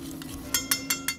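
A sauce of mentsuyu, sugar, garlic and ginger is stirred together, first with soft swishing and then four evenly spaced, bright clinks of a utensil against the container, close and clear.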